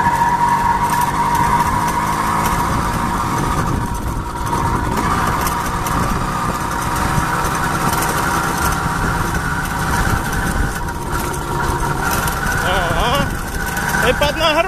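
Repaired D8 car engine running and revving under load, a continuous mid-pitched engine drone that rises and falls as the revs change, with voices talking over it.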